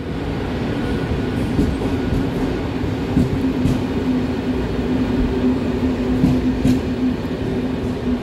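A delayed Intercity train heading toward Sátoraljaújhely pulls out of the station, giving a steady, fairly close rolling rumble with a low hum and occasional faint squeals and clicks, with no talk.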